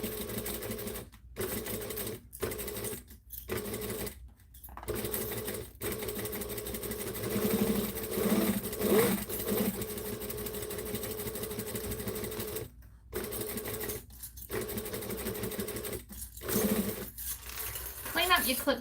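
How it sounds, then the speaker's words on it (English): Sewing machine fitted with a binder attachment stitching fabric, a steady whirring hum in several runs separated by short pauses, fairly close, with a voice talking over it at times. "you just feed this in and just push it in and start sewing"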